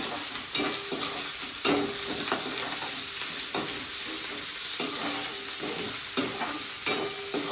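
Onions sizzle and fry in a pan with salt as the first step of palak paneer, a steady hiss broken by periodic clattering stirs and scrapes of a spoon.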